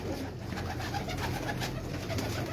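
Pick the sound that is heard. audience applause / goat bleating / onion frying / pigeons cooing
pigeons cooing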